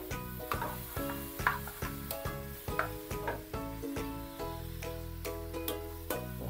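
Pork sautéing in a pan for bistig Kapampangan gives a steady close sizzle, broken by regular rhythmic scrapes and clacks of a utensil stirring the meat. No voices.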